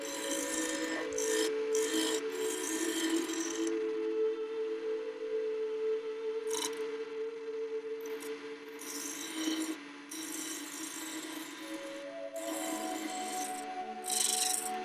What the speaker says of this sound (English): I round the beads over using the point of the skew.